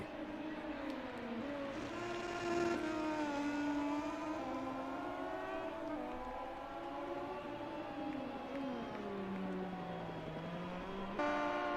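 Moto2 motorcycle engines roar in MotoGP 20 at the COTA circuit, a steady high-pitched whine that rises and falls with gear changes across the full stretch, loud and continuous with no talk.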